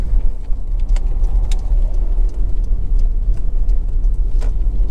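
A Honda CR-V 1.6 i-DTEC diesel SUV picks up speed with a steady, loud engine drone and road rumble heard from inside the cabin, with a few faint clicks over the continuous hum.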